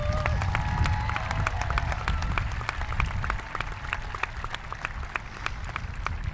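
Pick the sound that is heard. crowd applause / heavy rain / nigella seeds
crowd applause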